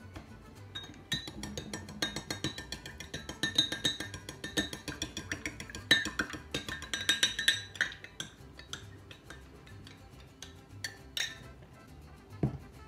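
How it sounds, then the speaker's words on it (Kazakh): A spoon clinks and scrapes against a bowl stirring a mixture with vinegar for cake dough, in quick, uneven strokes, close up, with occasional sharper taps. "Жақсылап араластырамыз."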